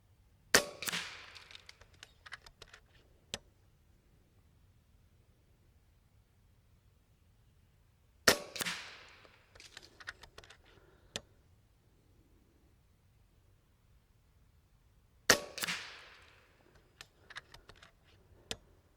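An FX Panthera competition air rifle fires three sharp, crisp shots spaced several seconds apart, each followed by faint clicks and handling rattles in an otherwise quiet setting.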